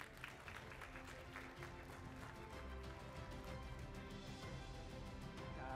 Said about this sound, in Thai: ขอเสียงปรบมือต้อนรับด้วยค่ะ